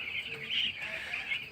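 Broiler chickens cluck and chirp in a steady, dense chorus on a poultry farm being given vitamin ADE water after vaccination, with continuous overlapping calls at moderate level.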